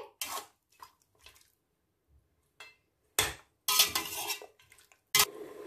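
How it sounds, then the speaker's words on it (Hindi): Bone-in mutton for nihari, coated with ginger paste, is mixed in a pot, making intermittent close scraping and clinking bursts of spoon on metal separated by brief quiet gaps. "टू टेबलस्पून अदरक का पेस्ट ऐड करेंगे मिक्स करेंगे गोश्त को हम अच्छे से फ्राई कर लेंगे"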